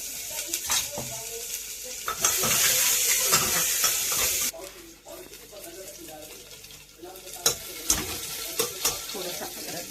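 Onion fries in ordinary cooking oil in a pan for a simple vegetable dish, a bright sizzle surging for a couple of seconds amid stirring and clattering utensils, with someone talking intermittently.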